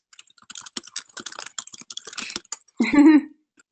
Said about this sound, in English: is furiously typing